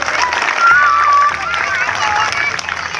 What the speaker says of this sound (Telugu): వాళ్ళకు కూడా మరొకసారి గట్టిగా చప్పట్లు కొట్టాలి.